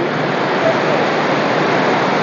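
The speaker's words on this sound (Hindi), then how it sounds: "गंगा मैया को उबाल देखो, सीधा धरती से कनेक्ट होकर लग रहा पानी फेंकने" Ganges water at Rishikesh gushing and churning up from the ground, a loud steady broadband rush of turbulent water with no pauses.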